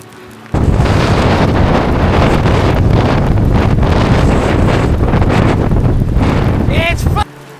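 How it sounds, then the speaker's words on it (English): Strong gusty wind at Mirador Lago in Torres del Paine, Patagonia, buffets the microphone in a loud, continuous roar for several seconds, with a brief faint voice near the end. "It's windy!"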